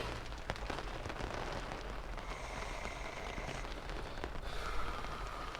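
Heavy rain pours down outdoors while someone works on a Miata MX-5 dashboard, a dense, steady hiss of drops with scattered louder patters throughout.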